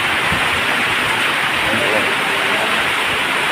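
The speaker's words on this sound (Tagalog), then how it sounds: "Guys, nagkaroon na ng ulan sa El Nido." Steady, dense hiss of rain falling in El Nido, close and continuous throughout, with no pauses.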